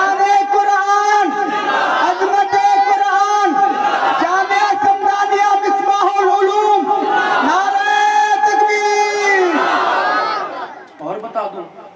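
At a Khatme Nabowat religious conference, a large crowd answers the takbeer call with loud, rhythmic, sustained chanting in unison, repeated several times before fading into scattered voices.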